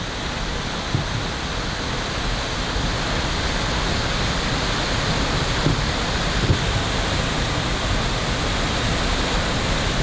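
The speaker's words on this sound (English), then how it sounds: "Serious amount of water coming off this hillside." Heavy water pouring off a hillside on the Ingleton waterfall trail, a steady loud broadband roar of falling water that holds constant and close for the whole stretch, with no voices.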